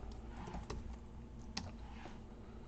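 Keys clatter on a computer keyboard during C/C++ coding, a quiet run of soft clicks with a few sharper, louder keystrokes standing out.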